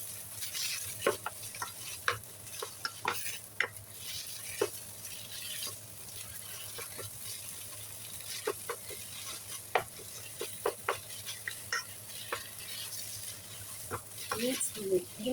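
Minced chicken meat sizzling in a frying pan while being stirred, with repeated scraping and clicking strokes over a steady low fry hiss, close up and fairly quiet.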